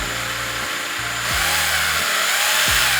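A power drill whines steadily, its motor pitch dipping and rising in repeated pulses as it bites through thick, hard plastic in a Porsche, loud and close with no talking.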